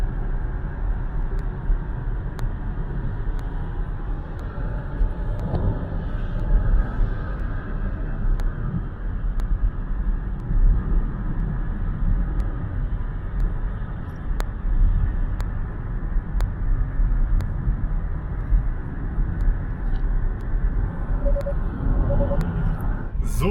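Hyundai Kona driving on the road at about 120 km/h, a steady low rumble of road and wind noise inside the cabin, continuous and even with faint occasional ticks.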